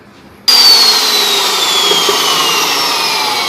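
A cutting machine makes a 90-degree cut, starting suddenly and running as a loud, steady whining grind with a high, slowly falling tone.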